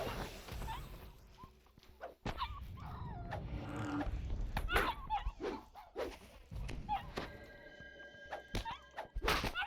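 Hostile dogs in the fantasy online game DDO (Dungeons & Dragons Online) give sharp barks and whimpers amid combat thuds, footsteps and clatter, close and busy with short bursts.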